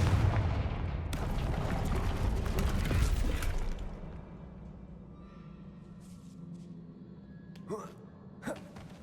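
Confringo blasting spell explosions in Hogwarts Legacy, opening with a loud, dense burst of booming fire that fades after a few seconds into a quieter rumble with two short, sharp blasts near the end.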